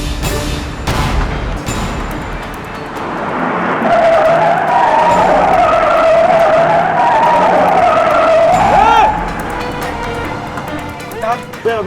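A Scorpio SUV makes a quick U-turn with tires skidding and squealing, a loud sustained screech over engine roar in a police chase scene, preceded by sharp bangs and voices.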